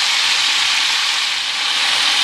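Spices sautéing in a pan for wood pigeon biryani, a loud steady close-up hiss of sizzling oil without pause or voices.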